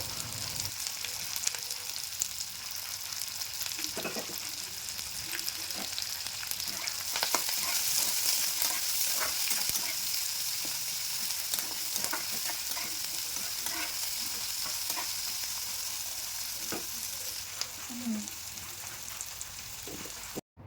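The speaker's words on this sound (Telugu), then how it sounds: "రెండు పచ్చిమిర్చి కొంచెం కరివేపాకు ఈ మూడు వేసి లైట్గా ఫ్రై చేసుకోవాలి" Onions, green chillies and curry leaves sizzle in a pan over a medium flame, a constant loud crackling hiss broken by occasional scraping stirs, with no voice.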